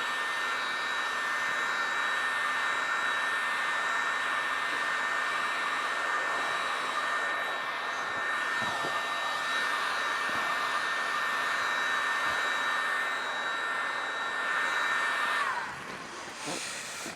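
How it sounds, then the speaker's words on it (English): Heat gun blowing steadily as it warms the paint on a Peugeot 205 body panel, a loud even hiss and whirring drone close by that holds for about fifteen seconds before cutting off. "we just warm the paint up a bit, get some heat in this panel"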